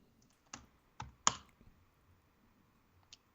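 Keys tapped on a computer keyboard while entering a command at a prompt: a handful of separate, crisp clicks, close and quiet, spaced irregularly with short gaps.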